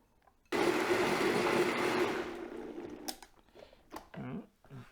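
A blender purees onions for fresh garden salsa in a loud, steady whir of about two and a half seconds, then cuts out, leaving faint clatter and rustling.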